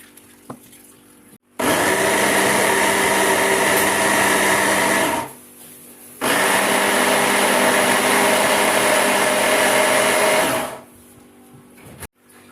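Two long bursts of a food processor chopping quartered tomatoes, whirring loudly, each about four seconds, separated by a short pause, with a rough chopping texture throughout.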